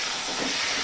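Marinated chicken, seasoned with salt, turmeric and chilli powder, hits hot spice paste for chicken kosha and gives off a loud, dense, continuous sizzle, close and steady with no voices.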